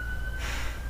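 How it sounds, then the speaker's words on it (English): A faint, distant siren wail with a steady high tone that swells briefly, heard over low background rumble. "sorry about the sirens, something's happening out there."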